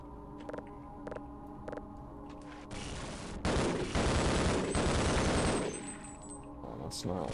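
Gunfire in the Half-Life video game: a few separate shots early on, then a dense burst of rapid automatic fire in the middle, tailing off toward the end, fairly loud with no talk over it.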